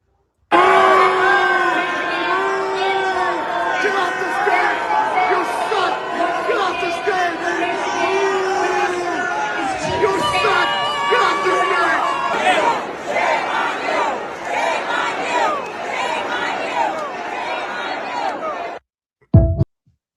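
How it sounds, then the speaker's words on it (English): A large crowd at the Detroit Democratic Convention roars and shouts without pause, a loud, chanting mass of voices with whoops and cries, then cuts off abruptly near the end. "Listen to the crowd."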